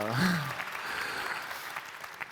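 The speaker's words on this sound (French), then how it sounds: "oui, vous pouvez applaudir, vous alliez applaudir" Audience applause fills a large conference hall at the Grand Rex, a broad steady wash of clapping that follows a brief voice at the start and then fades slightly over a couple of seconds.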